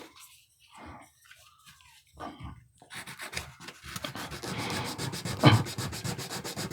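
Sandpaper rubbing over a carved wooden owl, a soft dry scratchy sanding that grows steadier and louder in the second half, with a brief harder scrape near the end.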